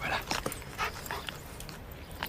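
A female dog whimpers and pants up close, soft breathy pants mixed with short high whines in uneven bursts, with no speech over it.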